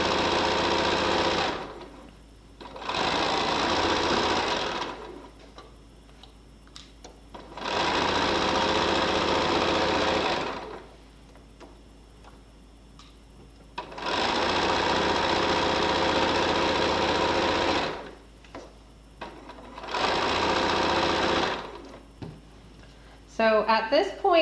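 A sewing machine stitches quilt rows in long, steady motorized runs, each lasting a few seconds, separated by short pauses, loud and close with a whirring hum.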